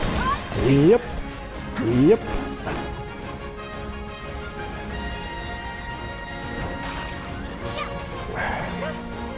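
A dog in the video game Final Fantasy VII Remake gives two sharp barks early on, loud and close. Game music and effects continue underneath afterward.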